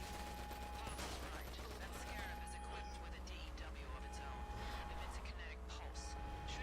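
Gunmen shooting at the player in Test Drive Unlimited Solar Crown, Ibiza: scattered bursts of gunfire among engine and game noise, with a voice talking over them.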